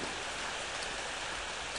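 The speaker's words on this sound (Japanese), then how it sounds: "雨が降っていますね" Steady rain falls in the Ao Oni mobile horror game, a dense, even hiss that goes on unbroken for the whole stretch, with no talking over it.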